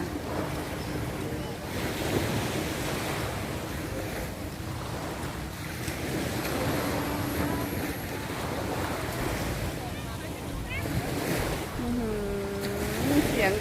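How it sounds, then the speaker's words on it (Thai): Sea waves crash on a beach in Jomtien, Thailand, with a continuous rushing surf and gusty wind buffeting the microphone, while a voice talks faintly underneath. "อยู่ทะเลก็กระหน่ำได้นะคะ เสียงคลื่นตับตับตับตับเลยค่ะ"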